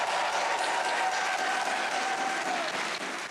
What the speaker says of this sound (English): Let's give a round of applause to our Ram Band and cheerleaders.